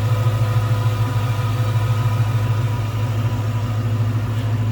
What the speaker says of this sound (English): Smooth running, nice sounding engine.